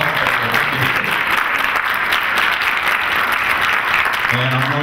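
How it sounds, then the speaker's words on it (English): An audience at a talk bursts into sustained applause, a dense steady clatter of many hands clapping throughout, with a voice briefly audible near the start and again at the end. "These guys, round of applause."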